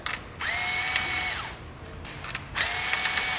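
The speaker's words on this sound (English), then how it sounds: "You remove these 12mm bolts that hold the bracket in place." A power tool, likely a drill or impact driver, removes 12mm bolts from a bracket on a 2008 Subaru WRX in two close whirring bursts with a short pause between them.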